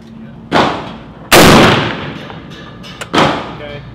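Three loud, close gunshots from a SCAR combat assault rifle ring out at an outdoor range, spaced unevenly about a second apart. Each sharp blast trails off into a short echo, with a faint click between them.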